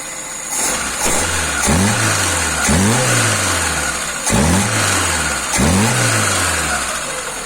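A Volga car's 2.4-litre engine fitted with a Solex 073 carburetor, running loud and close with repeated throttle blips that rise and fall roughly once a second over a steady idle.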